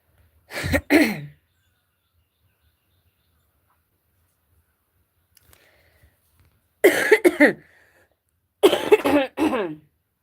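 Three bursts of coughing close to the microphone, separated by long silences, the later two as rapid clusters of harsh coughs.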